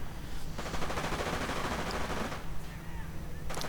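Machine gun fire from a Hetzer tank destroyer in the Company of Heroes strategy game, heard as rapid, quiet bursts of gunfire throughout, mixed with other battle noise.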